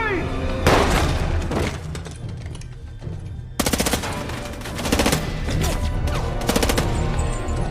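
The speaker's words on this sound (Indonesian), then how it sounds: "namun Rob juga datang menembaki mereka" Gunfire from a police action film, loud bursts of automatic and single shots with crashes and booms, mixed with film music and dialogue.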